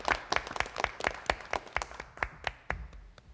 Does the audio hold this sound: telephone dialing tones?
no